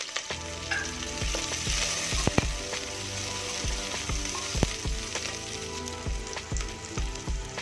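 Onions, green chillies and curry leaves fry in a pan for mutton curry, a steady close sizzle broken by frequent clinking scrapes of a spoon stirring against the pan.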